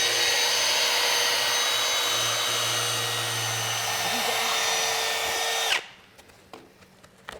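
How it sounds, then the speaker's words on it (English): A foam smoothing spinner on a power tool skims lumps off foam, giving a loud, steady high-pitched whirring drone that cuts off sharply near the end, followed by a few quiet knocks. "So this is one of the foam smoothing spinners. You can just skim off any lumps and bumps in there."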